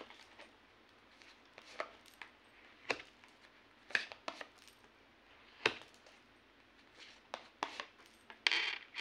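Cards are laid out one by one in a row for a tarot reading, giving sharp, light taps and slaps at irregular intervals in a quiet room.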